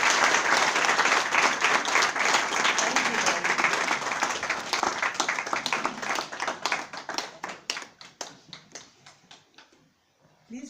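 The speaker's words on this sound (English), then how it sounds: "Please join me to give Mwalimu Shivji another round of applause." Applause from a memorial lecture audience after the talk, a full burst of clapping that gradually thins into sparse, separate claps before dying out.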